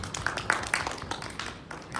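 Brief scattered hand claps from a small group at a high school Sunday church service, light and uneven, fading in and out over a couple of seconds with faint background murmur.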